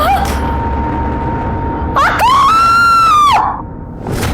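A voice rises into a long, high, piercing scream lasting over a second, close and loud, with a brief higher cry just before it in an otherwise quiet room.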